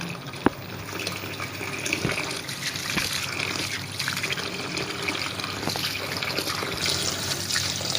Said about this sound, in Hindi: और इसके ऊपर हम चला देंगे ठंडा पानी।